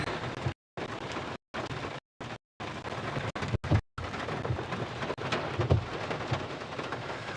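Heavy rain pours steadily during a tornado-outbreak thunderstorm on the Kansas and Oklahoma plains, with deep thunder rumbling underneath; the roar is loud and continuous apart from several abrupt silent gaps.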